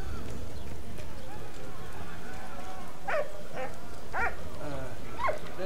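A dog barks several times in the World War I video game Valiant Hearts: The Great War, short mid-distance yelps over a busy, steady game background.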